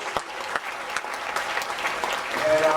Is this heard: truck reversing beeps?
no